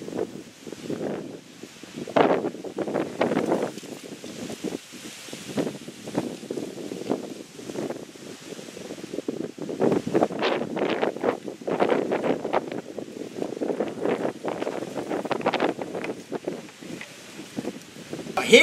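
Steady outdoor wind gusting and buffeting the microphone around a homemade Savonius-style wind wall, continuous rushing noise with rustling throughout and no clear talk.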